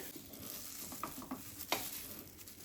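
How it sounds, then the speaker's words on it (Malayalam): Kunafa dough lightly frying in a pan over a low flame, a soft steady sizzle broken by occasional stirring scrapes and taps, close and fairly quiet. "ഇനി ഇതൊക്കെ വേറൊരു പാനിലിട്ടിട്ട് ചെറുതായിട്ടൊന്ന് ഫ്രൈ ചെയ്തെടുക്കണം ഫ്ലെയിം കുറച്ച് വെച്ചിട്ട്"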